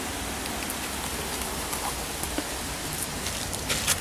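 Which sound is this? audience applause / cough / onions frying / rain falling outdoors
rain falling outdoors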